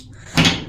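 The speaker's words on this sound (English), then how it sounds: "Double doors for a bathroom." Hotel bathroom double doors at the Sofitel Saigon Plaza in Ho Chi Minh City give a single short, close knock or thud as they are opened or closed, with quiet room tone around it.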